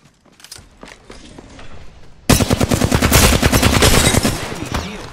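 Loud, dense automatic gunfire from Apex Legends erupts mid-clip after quieter scattered footsteps and shots, continuing as sustained rapid bursts close by.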